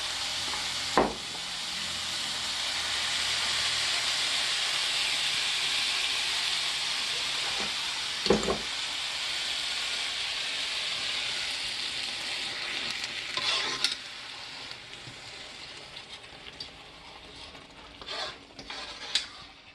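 Sauce stirred into vegetables frying in a pan gives a steady close sizzle with occasional scraping knocks of the spoon against the pan.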